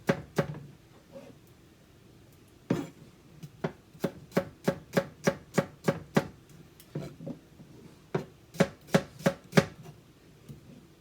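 Knife chopping a shallot on a cutting board with a French cut, crisp close taps, a few scattered strokes and then quick even runs of about eight to ten chops, alone with no talk.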